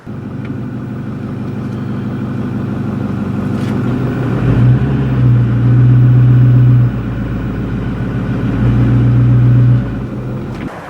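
A truck engine runs steadily as the truck pulls back on rigging lines holding a leaning chestnut oak, a loud continuous rumble that revs up in two longer surges.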